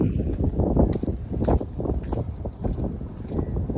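Steady wind rumbles and buffets the microphone at a high viewpoint overlooking houses, gusting irregularly with low blustery noise throughout.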